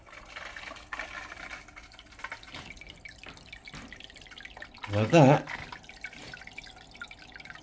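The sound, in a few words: HYGGER aquarium filter running, moving water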